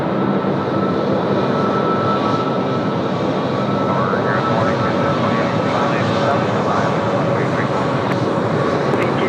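Korean Air Boeing 787-10 landing on Sydney Airport's runway 34 right, a steady loud broadband jet roar with reverse-thrust rumble filling the whole stretch, a voice talking over it.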